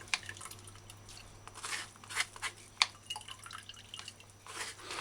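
Pomegranate juice drips and trickles through a strainer into a bowl of water as seeds are worked with a wooden spoon, giving soft, uneven patters and small wet clicks that come and go, quiet and close, with no talk.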